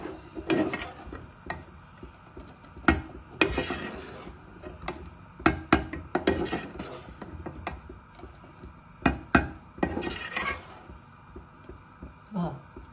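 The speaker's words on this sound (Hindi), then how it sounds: "इसको साथ साथ हिलाएंगे।" Chickpea curry (chole) gravy stirred in a pot, giving a run of scraping, knocking spoon-on-pot sounds in irregular bursts, close and fairly loud, with occasional speech between strokes.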